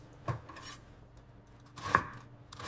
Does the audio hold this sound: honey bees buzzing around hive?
no